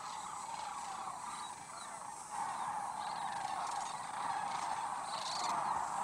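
Migrating waterfowl calling at a national wildlife refuge on the Staked Plains of Texas: a continuous chorus of honking calls from a large flock, fairly distant and steady throughout.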